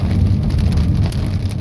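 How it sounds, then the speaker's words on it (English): Pea-sized hail mixed with heavy rain falling during a strong thunderstorm in Reno, Nevada, a dense, loud, steady patter with no pauses. "we're getting hailed on"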